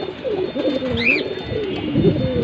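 A pair of aluminium silver pigeons coo steadily at close range, their soft, low, rolling calls continuous over a faint background hiss.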